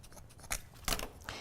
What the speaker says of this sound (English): If you don't have wire cutters, know that scissors work really well.